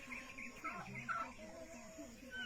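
Chickens and chicks in a rural yard clamor for morning feed, a faint mix of clucks, cheeps and squawks overlapping continuously at a distance.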